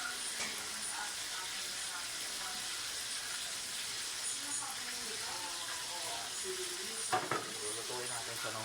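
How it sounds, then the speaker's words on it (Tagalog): Food frying in a pan for a home lunch meal prep gives a steady, close sizzling hiss that runs unbroken throughout, with a brief clatter near the end. "Lulutuin natin siya ng pritong prito."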